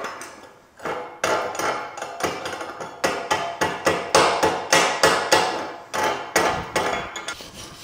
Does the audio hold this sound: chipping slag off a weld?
yes